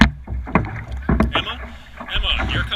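Dragon boat paddles plunging and pulling through water during crew practice, a few splashing strokes close to the microphone with wind and a coach's voice in the background.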